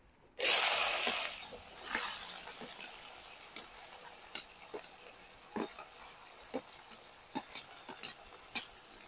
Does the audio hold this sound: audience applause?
no